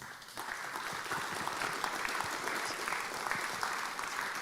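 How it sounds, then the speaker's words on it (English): An in-studio audience at a product-launch founder interview gives a round of applause, a steady, fairly quiet patter of many hands clapping that continues evenly from start to finish. "Let's give Renji a round of applause."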